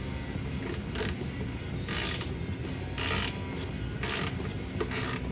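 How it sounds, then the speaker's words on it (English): A 15mm wrench tightening the bolt of a Ricmotech hard-mount adapter, with repeated close ratcheting clicks coming in short bursts of several strokes each, separated by brief pauses, over a low steady background hum. "A 15mm wrench is needed to attach and tighten."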